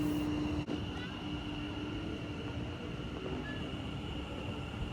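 A Stansted Express train rumbles at a station platform with low steady mechanical noise and a faint electrical whine, with a brief squeal partway through.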